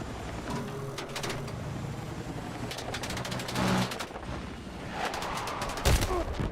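Video game gunfire crackles in repeated rapid bursts and scattered single shots at moderate loudness, with some cooing-like tones mixed in the background.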